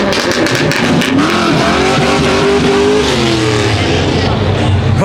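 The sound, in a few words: cars driving and revving at car meet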